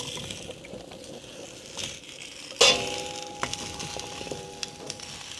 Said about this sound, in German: Während der Tintenfisch mit Knoblauch in Olivenöl kocht